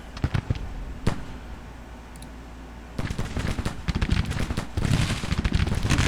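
Federal artillery and musket fire in a Civil War battle in Grand Tactician: The Civil War, with scattered sharp booms followed by dense, crackling volleys that grow busier toward the end.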